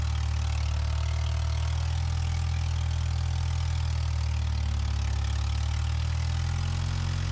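Engine of an abandoned Lamborghini in a forgotten subway, running in first gear at low RPM as the car creeps forward through a puddle, a steady, loud low drone without revving peaks.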